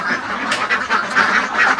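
Ducks in an enclosed duck farm, mostly egg-laying females, quack continuously in a dense, overlapping chorus, loud and close, with no talking.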